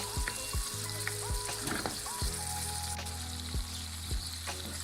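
Tomatoes frying and being mixed in a pan, an even sizzling hiss throughout, punctuated by regular low thumps and scrapes of the stirring spoon, with no one speaking.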